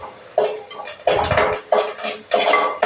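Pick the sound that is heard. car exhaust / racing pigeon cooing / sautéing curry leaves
sautéing curry leaves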